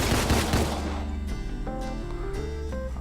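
Dense burst of gunfire from the top-down shooter video game Deadbolt, loud and continuous at first, then thinning into scattered shots with ringing tonal game sounds over a steady low background.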